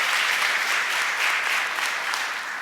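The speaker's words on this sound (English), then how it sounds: "that's worth some applause" An audience at a retail boot camp showcase claps in sustained, dense applause, loud and even throughout, easing off slightly toward the end with no voices over it.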